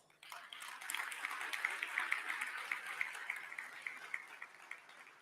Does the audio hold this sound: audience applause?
yes